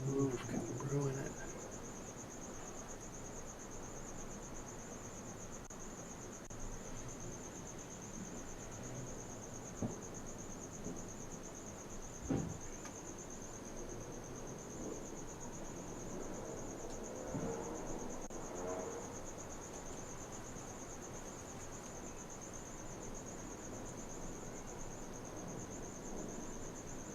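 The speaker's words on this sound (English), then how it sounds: "You feeling those crickets, huh?" Crickets chirp in a continuous high, steady trill throughout, with faint bird cooing and occasional soft background sounds beneath.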